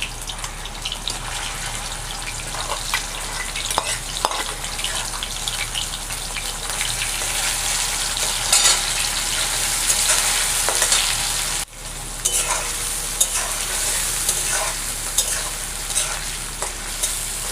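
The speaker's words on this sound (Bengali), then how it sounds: "প্রথমে আমি চিংড়ি মাছগুলো ভেজে নেব।" Prawns coated in salt and turmeric fry in hot mustard oil in a wok, a continuous loud sizzle with crackling pops and stirring scrapes and no talk.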